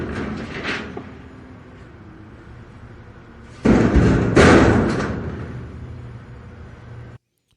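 A recorded garbage truck rumbles low and steady, then a loud clanking thud and a metallic bang ring out before the rumble fades and cuts off.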